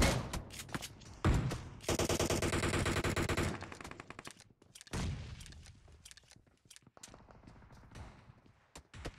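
Gunfire in BGMI: bursts of rapid automatic fire, a dense sustained burst early on, then scattered single and short volleys, some distant, loud and crackling with quieter gaps between.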